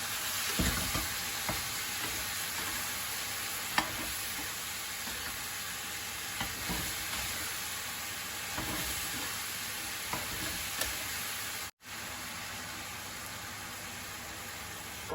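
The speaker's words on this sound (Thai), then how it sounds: "มาใส่กลั่นดาว กันเลย เนาะ ผัดให้เข้ากัน เลย" Brussels sprouts are stir-fried with pork belly in a pan, sizzling and hissing steadily, with a spatula scraping and tossing the pan every few seconds and no voices heard.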